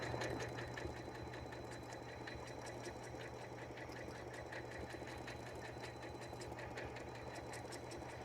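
A Janome M8 sewing machine with an automatic stitch regulator runs steadily, with a continuous motor hum and a rapid, regular needle clatter that keeps an even pace throughout, loud and close with no talking.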